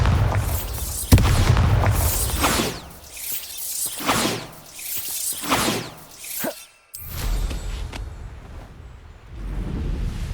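Bombarda spell blasts in the Hogwarts Legacy video game: a series of loud booming explosions with whooshing, shattering debris, rolling in repeated waves, followed by a sudden drop and a lingering rumble.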